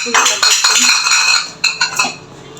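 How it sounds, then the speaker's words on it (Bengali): A bowl dropped in a kitchen where a gourd curry is being cooked, making sharp metallic clatters and rattles up close, with several quick bangs and a short ringing tail. "সে বাটি ফেলে দিচ্ছে"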